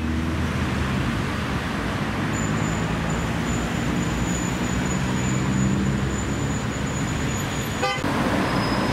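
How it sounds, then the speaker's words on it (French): Heavy car traffic rumbles steadily along a city street in Sofia. A long, thin horn tone sounds from the middle of the clip onward, and a sharp honk bursts out near the end. "La circulation automobile à Sofia est incessante et les Sofiotes sont assez impatients au volant."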